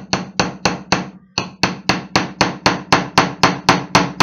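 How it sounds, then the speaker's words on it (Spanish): A hammer drives a nail through a coconut into wood, with steady, loud, evenly spaced blows, about a dozen sharp strikes with one brief pause near the start and no talking. "vamos a meter el clavo en el coco y con un martillo vamos a"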